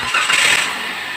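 A 2018 Toyota Avanza's engine cranks and catches after an oil change, a loud, close, brief start that settles into a steady running hum.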